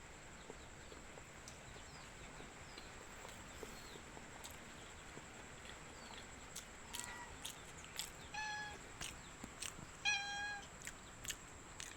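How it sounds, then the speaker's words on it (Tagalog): A single pet cat on a farm on a rainy night gives a few faint high meows near the end. They sit over a low, steady background of drizzle and night ambience. "Ito po yung nag-iisang pusa ko."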